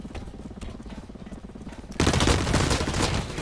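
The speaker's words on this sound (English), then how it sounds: "He got me with an assault rifle at close range." Close-range assault rifle fire in the shooter game Blacklight Retribution: a dense, rapid string of shots that suddenly grows much louder and harsher midway, then keeps going without a break.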